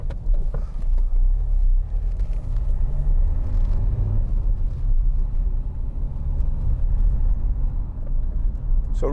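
A 2015 Dacia Duster 1.5 dCi Ambiance diesel is heard from inside while driving on the road, giving a steady low engine and road rumble with tyre noise throughout, loud and continuous.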